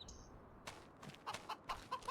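Chickens clucking on a farm in the Farming Simulator video game, a series of short, close clucks in an uneven rhythm with a brief higher call near the start, no talk.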